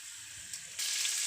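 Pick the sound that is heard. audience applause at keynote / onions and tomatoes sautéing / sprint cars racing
onions and tomatoes sautéing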